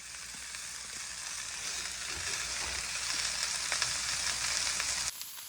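Zucchini and mushrooms saute in vegetable oil in a pan, giving a steady, fairly quiet sizzle and crackle with faint stirring that runs for several seconds before stopping abruptly.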